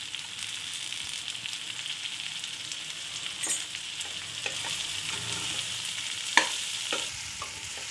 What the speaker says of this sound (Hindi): सारे मसालों को और भिंडी को अच्छे से मिक्स करना है